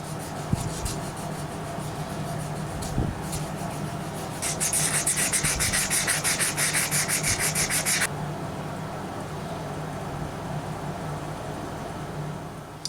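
Hard resin filler being sanded on a handmade wooden flatfish-style bass lure: steady scratchy rubbing throughout, with a louder, faster burst of rhythmic back-and-forth strokes in the middle before easing back to softer rubbing.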